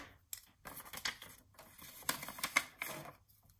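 Paper for a gift card holder envelope album being scored with a scoring tool, a series of close, crisp clicks and scraping strokes in irregular bursts, with no talking.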